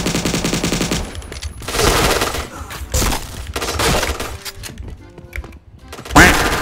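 Rapid gunfire from a Point Blank shooter game, bursts of automatic shots and sharp impact thuds in loud clusters with brief gaps, ending in a strong final hit.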